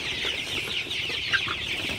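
Sonali super hybrid chickens cluck and chatter continuously in a poultry shed at morning feeding time, with fresh water and feed just put out. The flock's busy overlapping calls are close and steady, with one sharper squawk, and no voices.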